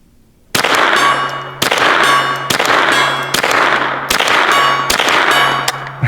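Rifle shots ring a steel gong target outdoors, five or six sharp loud impacts at roughly even intervals, each leaving a bright metallic ring that carries into the next.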